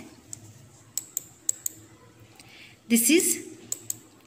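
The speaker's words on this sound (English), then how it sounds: "The sound is clicking sound." A computer mouse's left button clicks in sharp, isolated ticks spaced irregularly, with a short burst of someone talking partway through.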